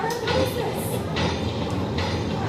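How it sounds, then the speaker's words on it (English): A train rolls away from a station, a loud close rumble with hissing bursts and rhythmic rail clatter over a couple of seconds. "The train leaving the station. It's getting faster and faster."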